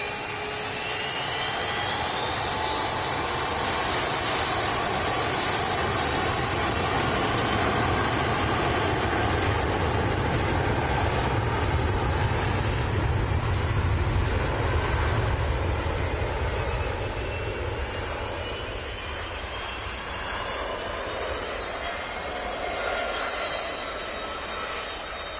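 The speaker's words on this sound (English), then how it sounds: "A320 next to depart." An Airbus A320 jet departs Manchester Airport, a loud sustained engine roar and rumble that swells and then slowly fades, with a voice talking over it.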